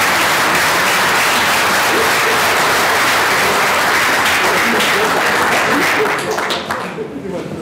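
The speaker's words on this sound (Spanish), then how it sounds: "Un aplauso para todos los presentadores." Conference attendees at a Chilean cryosphere science congress applaud the presenters at the close of a morning session. The clapping is loud and sustained, then thins and fades over the last second or so.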